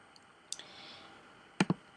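A computer mouse gives a few crisp, close clicks, a faint single one and then a quick double click, in a quiet room.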